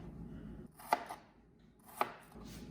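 A knife slices apples on a cutting board for a homemade apple pie, giving two crisp, distinct chops about a second apart over a quiet room hum.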